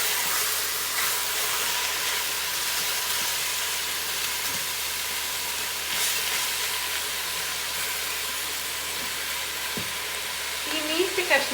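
Marinated chicken pieces frying in a pot for soup, a steady loud hissing sizzle for several seconds with occasional light stirring clinks, and a brief bubbling burst near the end.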